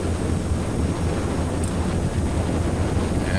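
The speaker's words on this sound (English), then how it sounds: "Now you can hear the wind" Steady rushing wind noise during the takeoff roll of a Quest Kodiak aircraft in X-Plane 11, dense and unbroken with a low rumble underneath, fairly loud and constant throughout.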